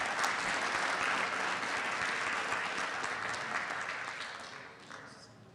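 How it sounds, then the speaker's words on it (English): Applause from the audience at a city council meeting for a recognized employee, a sustained crowd of clapping hands at moderate distance that holds steady and then tapers off. "Let's give Glenn another round of applause."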